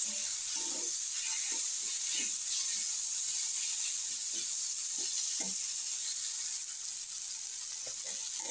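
Tomatoes cook in a hot pan with a steady, close sizzle and hiss running throughout, broken by faint stirring knocks and clinks of a utensil against the pan.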